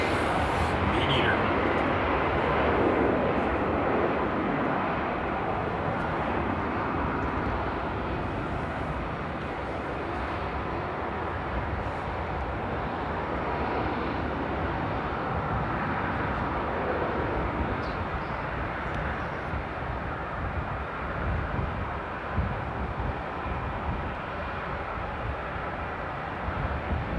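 An aircraft moves along runway 18 Left at Amsterdam Airport Schiphol, giving a steady broad distant jet roar that stays even throughout without rising or falling sharply.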